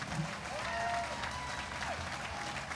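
Outdoor crowd applause at a World Dragon Boat Races opening ceremony in Tampa, Florida, a steady wash of clapping with crowd noise and faint tonal sounds over about three seconds.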